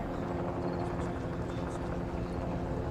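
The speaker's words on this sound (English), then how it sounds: "there's just a helicopter" A helicopter drones steadily and continuously at a barricade during an armed standoff, its low rotor throb filling the whole stretch at moderate loudness.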